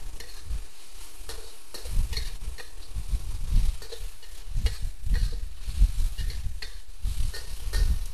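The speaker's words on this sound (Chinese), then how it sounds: "拌炒均匀即可起锅" Loofah and shredded crab meat being stir-fried in a wok after seasoning with salt and MSG, with soft sizzling and repeated spatula scrapes and tosses in an irregular rhythm, close and moderately loud.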